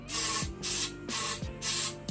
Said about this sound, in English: Now all I'm going to do is just spray a little bit